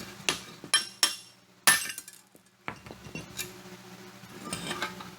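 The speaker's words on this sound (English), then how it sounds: "The bigger hammer, the better on this job." Hammer blows on a Ford Explorer wheel hub during a wheel bearing replacement, several sharp metallic strikes spaced irregularly, loud and close, with ringing clinks between them.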